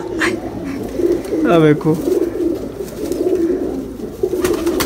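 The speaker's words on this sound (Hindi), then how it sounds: "इन्होंने कबूतर बहुत ज़्यादा रखे हुए हैं, इन्ने कबूतर रख ले जी हैं" Pigeons coo in soft, low, repeated rumbles close by in a village, while someone speaks briefly over the large flock.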